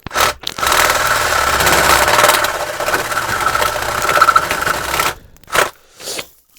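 A spade bit bores into wood, a loud continuous grinding scrape lasting about five seconds, then stopping with a couple of short bursts as the drill restarts briefly.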